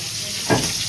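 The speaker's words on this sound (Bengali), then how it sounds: "পটল ভাজা করছে।" Pointed gourd (potol) slices fry in a pan at home, with a soft steady hiss that swells into a brief louder burst of sizzling.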